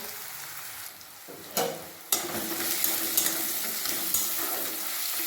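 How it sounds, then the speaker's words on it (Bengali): Onions fry in a pan with a loud, close sizzle that jumps up after a quiet moment, followed by stirring scrapes and clinks over continuous hissing. "পেঁয়াজ ভালোভাবে ভাজা হয়ে গেছে"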